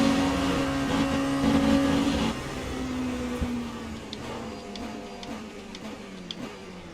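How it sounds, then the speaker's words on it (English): Porsche race car in the racing game Le Mans Ultimate at Spa, its engine droning close by with a pitch that slowly sinks as it approaches, while faint mechanical ticks sound alongside. "Here comes that Porsche again"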